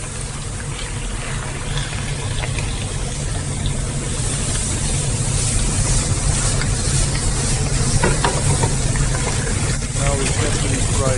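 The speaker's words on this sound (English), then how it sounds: "Now we carefully fry it so it gets the crust right away." Beef liver frying in butter in a hot pan, a steady loud sizzle and spatter that runs unbroken throughout.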